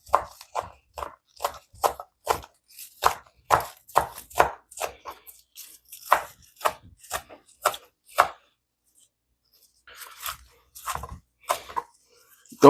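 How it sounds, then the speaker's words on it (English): Green onions are rough-chopped with a knife in quick, rhythmic strikes, loud and close, with a short pause before the chopping resumes. "Don't have to be no perfect chop. A little rough chop."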